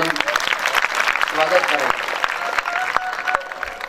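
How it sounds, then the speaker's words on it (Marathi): Applause fills the hall at a Shiv Mahapuran religious discourse, a steady wash of clapping that runs the whole time beneath someone speaking over a microphone. "सर्वांनी टाळ्या वाजून"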